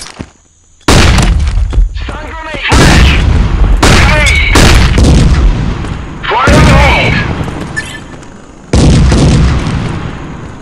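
Flashbang stun grenades go off in the Modern Ops shooter game: a run of loud, close booming blasts with crackling debris, separated by brief gaps.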